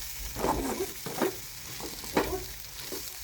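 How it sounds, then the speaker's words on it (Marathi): Dill greens with crushed peanuts stirred in a pan, giving several soft scraping strokes over a quiet, low sizzle, with no voices. "असं हलवून मस्तमध्ये मिक्स करून घ्यायचं"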